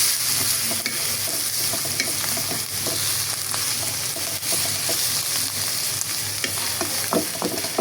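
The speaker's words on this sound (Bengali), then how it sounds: "আর অন্য চুলায় করলা ভাজি করে নিচ্ছি" Bitter gourd frying in hot oil on a stove, a steady close sizzle with frequent stirring scrapes and small clicks throughout, no speech.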